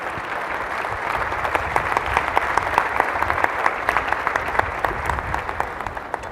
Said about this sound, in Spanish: Aplauden a las mujeres.